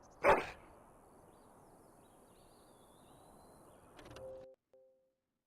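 A dog barks once, loud and close, in the video game Dragon Age: Origins. A quiet stretch follows, then a brief softer rustle and chime near the end.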